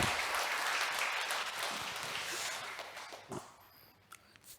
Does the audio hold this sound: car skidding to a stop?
no